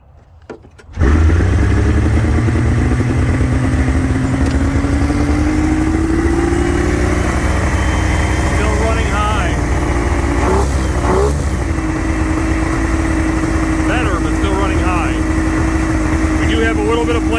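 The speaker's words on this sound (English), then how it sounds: "It's time to put the hood up, start this thing again, and see where the idle sits." A Polaris Indy 680 snowmobile engine fires up after a quiet moment and settles into a loud, steady idle that runs on close by, with a person talking over it.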